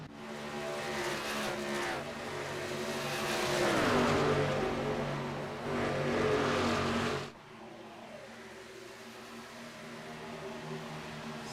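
NASCAR trucks racing in iRacing, engines screaming and bouncing off the rev limiters in a rising, sustained howl that cuts off sharply partway through to a quieter hum.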